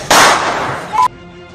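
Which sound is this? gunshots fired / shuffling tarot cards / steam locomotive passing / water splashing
gunshots fired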